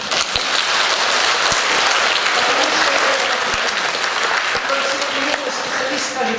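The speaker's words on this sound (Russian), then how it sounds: "Аплодисменты." Sustained applause from an opera audience after an opening talk, a dense, steady wash of clapping that holds loud throughout with no speech over it.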